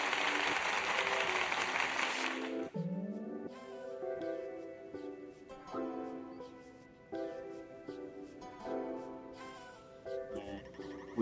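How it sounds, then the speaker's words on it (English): A short, dense burst of clapping from a group of people opens the moment on a live talk show, then cuts off after about two and a half seconds as tonal music with a steady beat takes over. "We gotta give ourselves a round of applause"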